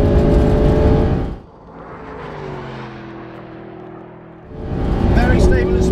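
Mercedes SLS AMG V8 accelerates hard up a runway, a loud roaring engine note that drops away during a gear change and rises again, with voices talking inside the car.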